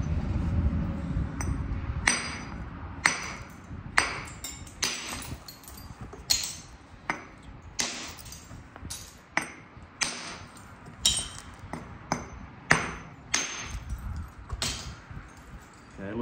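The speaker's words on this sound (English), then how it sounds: "we're going to hit down to create a platform to drive off this face" A hammerstone strikes a block of Georgia jasper again and again to spall off flakes, each blow a sharp, ringing stony crack at irregular intervals of roughly a second, close and loud with no talking.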